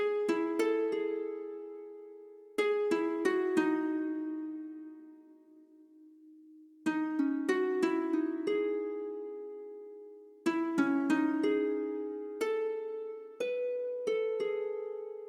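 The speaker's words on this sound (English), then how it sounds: "for the next section, we take out the flute and I introduce a harp sound" Plucked harp notes in a calm lo-fi hip hop beat ring out in clustered phrases, each pluck bright at onset and decaying slowly, with gentle pauses between groups and no drums.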